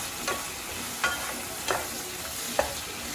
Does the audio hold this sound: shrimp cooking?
yes